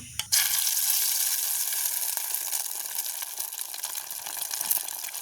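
Beaten egg hits hot boiling oil in a village kitchen with a sudden loud burst of sizzle, then settles into a steady crackling fry that continues to the end.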